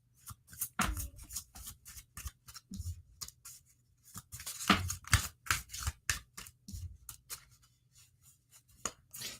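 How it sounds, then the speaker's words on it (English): A tarot deck shuffled by hand, with sharp clustered card flicks and riffles close by in irregular bursts separated by brief quiet gaps, no voices. "You hear me shuffling, and I'm picking randomly."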